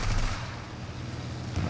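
Aircraft gunfire in War Thunder from a BF109-E1, a continuous rattling burst of rapid shots, loud and close, swelling again at the end.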